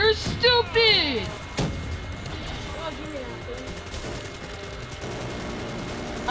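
Gunfire in the Call of Duty Black Ops III Dead Ops mode comes as a few sharp, loud bursts near the start, then fades into lower game noise and effects while voices talk over it.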